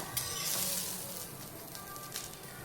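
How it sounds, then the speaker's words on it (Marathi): Sweet corn roasts in a pan with a soft, steady sizzle and crackle and a few faint stirring scrapes, all close and quiet, with no talk. "तुम्ही बघू शकता स्वीट कॉर्न चांगले भाजलेले आहेत"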